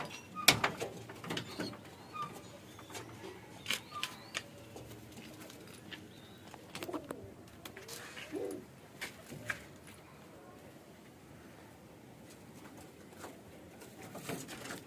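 Pigeons freed from the hand give soft, intermittent coos and shuffling, fluttery patters at close range, mixed with light scattered knocks and faint background noise.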